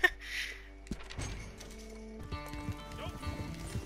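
Horses in the Red Dead Redemption 2 video game, with hoof clip-clops and thuds under light game ambience and brief voices, plus a faint whinny-like call near the start.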